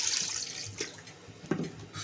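Water poured from a jug into a pot of mutton for shadi-style degi mutton pulao, a rushing pour loudest at the start that tapers off, with a couple of brief clinks near the end.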